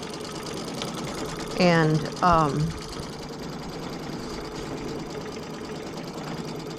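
Sewing machine running steadily as it stitches an embroidery motif, a constant close mechanical whir throughout, with a brief spoken word midway.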